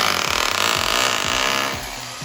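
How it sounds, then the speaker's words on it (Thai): Power drill boring into concrete to set steel wall anchors for a sliding gate rail, a loud continuous grinding whir with rapid rhythmic hammering pulses, close up and without voices. "ทำการเจาะนะครับเจาะปูนนะครับใส่พุกนะครับ"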